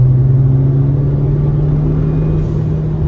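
A Nissan Juke with a Stillen mid-pipe exhaust drives along, its engine giving a steady, close, droning hum and low rumble heard from inside the car.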